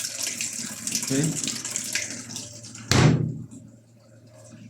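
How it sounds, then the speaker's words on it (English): Water gushes into the drum of an LG washing machine, a steady close splashing rush that cuts off with a clunk, leaving a faint hum; a voice briefly speaks. "start the wash machine and put a little of some water inside"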